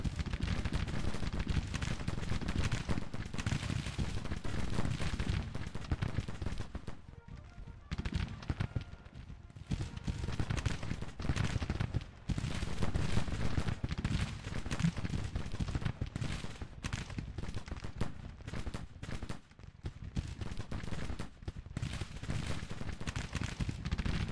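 Massed musket gunfire and artillery from a Civil War strategy video game, a continuous dense crackle of volleys and distant booms filling the whole stretch, with no talk.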